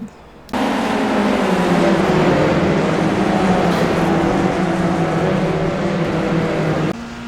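A formula car in the iRacing sim roars at high revs through a race crash replay, its engine note droning loud and steady, dipping slightly in pitch, then cutting back abruptly near the end.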